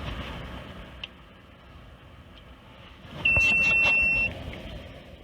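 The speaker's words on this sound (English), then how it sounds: "That beep signifies that it actually reads that it's connected to the car." An Autel MaxiPro diagnostic scanner connecting to a car gives one clear, high-pitched electronic beep lasting about a second, over quiet background hum with a couple of faint ticks before it.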